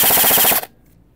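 A gas blowback airsoft rifle, a GHK DD MFR, fires a short full-auto burst, rapid loud cracking shots for about half a second, then abrupt quiet.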